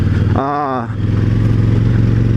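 A 2018 KTM 1290 Super Duke motorcycle is ridden, its engine holding a steady loud drone throughout, with a voice speaking briefly over it early on.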